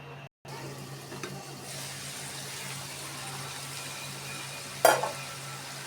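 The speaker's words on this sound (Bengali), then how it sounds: "আগে ভালোভাবে কষিয়ে নিব দুই থেকে তিন মিনিট" Cauliflower and potato sizzle steadily in a hot pan without water, a continuous crackling hiss with an occasional scrape of stirring and one brief clatter.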